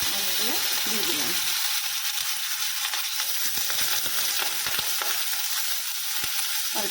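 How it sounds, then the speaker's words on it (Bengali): Sliced potatoes fry in hot oil in a pan, with a steady, dense sizzle and occasional light scraping throughout, with a brief voice near the start. "তেলটা এখানে গরম হয়ে গেছে, তারপর আমি আলুগুলো দিয়ে দিলাম।"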